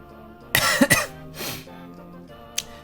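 A few sharp coughs close by, two quick bursts followed by a third, then a small throat sound after a pause.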